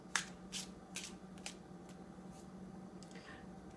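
Tarot cards being shuffled and drawn, giving a few quiet, crisp riffles and flicks spaced across the moment, with soft low hum beneath and no talking.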